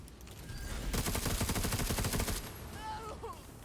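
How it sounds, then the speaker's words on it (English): Gunfire in the video game Necromunda: Underhive Wars: a loud, rapid rattling volley of shots lasting about a second and a half, then a fading tail with brief whistling game effects. "And then we shoot you 3 times and you die."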